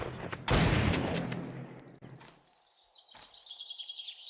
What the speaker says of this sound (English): gunshots in this game are really loud